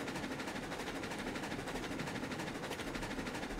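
A locomotive runs in the RailRoads Online video game, a faint, steady rumbling chug with a rapid rhythmic pulse that continues evenly and without speech.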